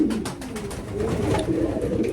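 Racing, miler, roller and fancy pigeons cooing together in a loft, a steady overlapping chorus of soft low coos with a few brighter calls, fairly close and continuous throughout.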